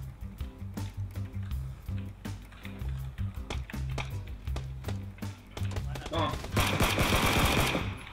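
Rapid bursts of gunfire in the video game PUBG crackle repeatedly in short volleys, building to a dense, loud barrage near the end, with players talking over the shots.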